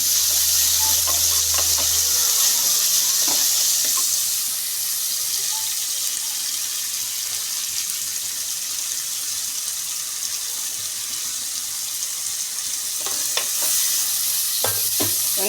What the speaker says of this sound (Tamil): இது வந்து சிக்கன் கிரேவிக்கு நல்லா எண்ணெய் வதங்கட்டும்.